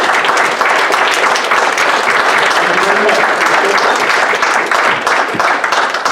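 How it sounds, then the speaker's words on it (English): A cowboy church congregation gives a round of applause to military veterans and active service members, sustained loud clapping from many hands with some voices mixed in. "We just want to give you just a quick little applause."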